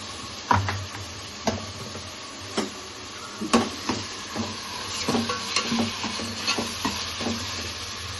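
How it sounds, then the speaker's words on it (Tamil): Ginger garlic paste sautéing with tomato and curd for a mutton biryani, with a soft steady sizzle under irregular clicks and scrapes of a spoon against the pot, close and moderately loud. "இஞ்சி பூண்டு ஆட் பண்ணி கொஞ்சம் நல்லா வதக்கணும்"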